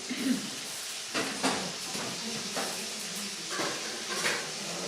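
Sliced leeks dropped into a hot stir-fry pan, sizzling and hissing faintly with a few soft clatters and stirring scrapes through the clip.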